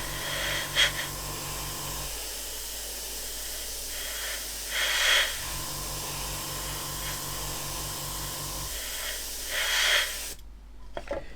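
Airbrush spraying another coat of lacquer paint in short hissing bursts over a low pulsing compressor hum, close up with no talking.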